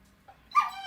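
A puppy lets out a short, high whimpering whine that rises near the end, close and fairly clear, with a faint murmur of room sound beforehand.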